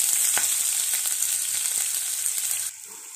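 Onions with red and green chillies frying in a pan, a steady bright sizzle that carries on close and loud with a few faint stirring taps, then abruptly drops to a much quieter hiss near the end.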